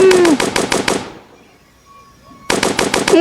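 Rapid automatic gunfire in the Roblox game A Dusty Trip: a loud burst of evenly spaced shots, a pause of near silence, then another burst starting up.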